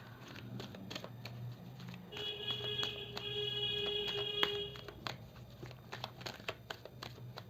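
Tarot cards are drawn and shuffled at close range, producing soft, irregular papery flicks and crinkles under a faint background hum.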